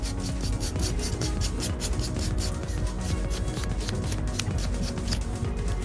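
Acrylic nails with glow-in-the-dark neon fill are buffed in a fast, steady scratchy rubbing that repeats in quick strokes, close and moderately quiet, with no talking.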